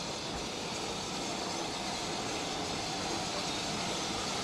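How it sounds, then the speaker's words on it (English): A British Class 4 steam tender locomotive from 1951 rumbles steadily with a continuous broad rushing roar, neither rising nor fading. "This is the Class 4 tender engine, introduced in 1951."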